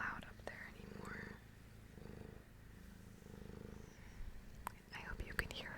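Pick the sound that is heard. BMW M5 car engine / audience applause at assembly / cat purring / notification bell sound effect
cat purring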